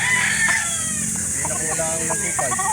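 Roosters crow and cluck amid a busy chicken livestock market in Calauan, Laguna, several calls overlapping over a dense steady crowd hum, with people talking throughout.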